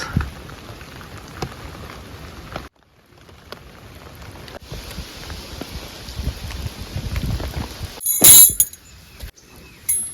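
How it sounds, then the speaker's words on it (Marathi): Light drizzling rain patters steadily on a surface at a night campsite, with a brief lull partway through and a sharp metallic clink near the end. "रिमझिम रिमझिम चालू आहे पाऊस"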